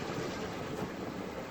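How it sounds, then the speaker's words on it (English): The old North Shore scenic train passing near the Duluth depot, a continuous broad rumble and rolling wheel noise, steady and moderately loud with no talk. "That's the old North Shore train that comes from the depot right here in Duluth."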